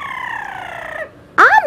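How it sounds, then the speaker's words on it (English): A bird gives a clear, loud tonal call, a long falling note followed by a quick warbling burst, heard up close with no talk. "What a pretty bird."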